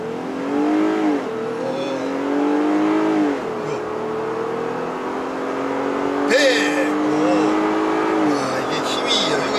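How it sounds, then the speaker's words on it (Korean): A Jeep Gladiator pickup accelerates hard on a paved road, its engine note climbing through gears in rising sweeps with brief shifts between, loud and close from inside the cabin. "자, 그럼 온로드에서 급가속부터 한번 온로드 주행을 시작해 보도록 하겠습니다."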